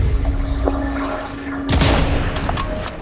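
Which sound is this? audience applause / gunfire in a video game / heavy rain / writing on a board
gunfire in a video game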